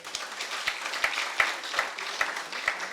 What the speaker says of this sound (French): Applaudissez pour elle maintenant, s'il vous plaît.